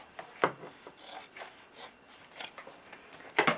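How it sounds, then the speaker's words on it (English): Scissors cut across old denim jeans fabric, giving close, crisp snips and rasping chews in an irregular series of short strokes. "So I'm just going to cut it"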